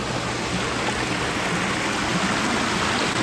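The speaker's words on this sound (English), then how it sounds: "So this is going to be a bigger waterfalls now. Oh yeah, look at the difference. You hear that sound right away." Backyard waterfall water feature running with its pumps turned up, a steady, loud broadband rush of falling water that fills the whole stretch without pause.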